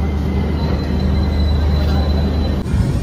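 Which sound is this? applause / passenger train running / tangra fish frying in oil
passenger train running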